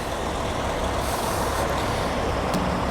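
A Cat 730 articulated dump truck rumbles steadily as it is maneuvered and lined up to load onto a heavy-haul trailer, a loud continuous engine drone with a faint brief hiss partway through.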